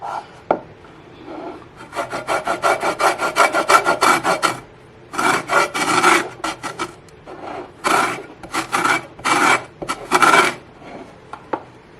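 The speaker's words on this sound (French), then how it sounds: "c'est parti pour râper le zeste de citron" Lemon zest is rasped against a grater in repeated bursts of quick scraping strokes, loud and close, with short pauses between runs and no talking.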